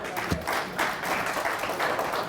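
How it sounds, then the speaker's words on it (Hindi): Audience at a spiritual discourse clapping in response to the speaker, a burst of scattered hand claps that swells and carries on at a moderate level for a couple of seconds. "आप बजाओ तालियां।"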